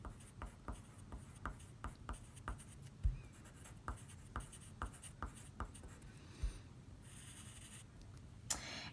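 Pen writing on paper or a board: a quiet series of soft, scratchy strokes in an uneven rhythm, close by and faint, with a brief rustle near the end.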